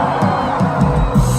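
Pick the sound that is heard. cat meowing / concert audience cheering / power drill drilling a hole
concert audience cheering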